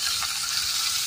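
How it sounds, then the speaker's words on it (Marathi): Pomfret frying on a hot tawa, lowered in one at a time, gives a steady, dense sizzle of oil that stays loud and even throughout, with no voices. "आता तवा तापत ठेवलाय, त्याच्यामध्ये आपण तळून घेऊया"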